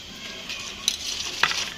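Rolls fry in hot oil in a home kitchen, giving a soft, steady sizzle, with two sharp clinks of a utensil against the pan close by.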